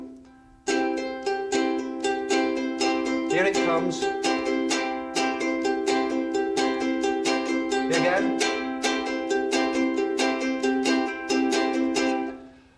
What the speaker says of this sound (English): have a double beat at the beginning of the split stroke